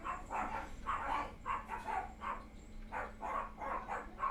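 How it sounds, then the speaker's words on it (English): A dog barks in rapid repeated bursts at someone knocking, an excited run of about a dozen barks, moderately near and unbroken by talk. "the fucking dog's going crazy"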